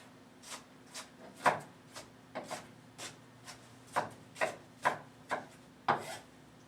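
A knife slicing onions on a cutting board, about a dozen crisp, evenly paced chops close up, steady and alone without talk.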